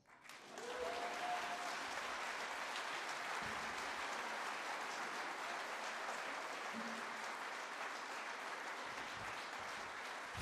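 Audience applause at a violin concert, sustained steady clapping from a crowd that holds at an even level throughout, with no speech on top.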